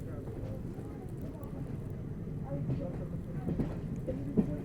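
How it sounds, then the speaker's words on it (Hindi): A train rolls slowly into Jammu Tawi railway station, a steady low rumble with faint clanks and a couple of sharper knocks near the end, heard from on board under a continuous murmur of voices. "धीमे धीमे अपनी ट्रेन अब finally Jammu Tawi railway station enter कर रही है।"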